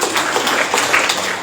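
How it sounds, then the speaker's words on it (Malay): An audience claps at a corporate town hall pitch, a brief dense patter of many hands at moderate loudness that stays fairly even. "boleh nak tepuk tangan apa?"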